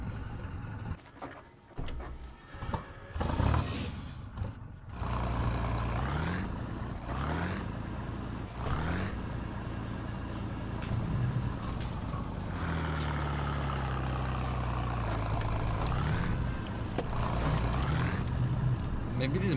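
A truck engine in the Spin Tires off-road video game idles and revs repeatedly, a heavy low rumble rising and falling across the whole stretch, with someone talking over it at times.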